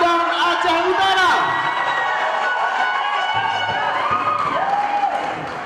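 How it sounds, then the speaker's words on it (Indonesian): An audience at the Aceh 2016 tourism ambassador crowning night applauds and cheers for Aceh Tengah and Aceh Utara, a sustained crowd roar under a loud announcer's voice and music. "tepuk tangan dulu dong buat Aceh Tengah dan Aceh Utara"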